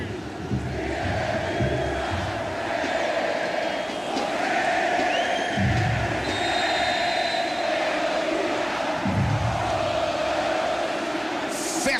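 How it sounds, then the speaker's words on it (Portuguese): Ponte Preta football fans singing in the stands at the Moisés Lucarelli stadium during a match against Vasco, heard as a broad, distant roar of massed voices blurred together over a broadcast feed. "Vamos ouvir o torcedor da Ponte Preta cantando."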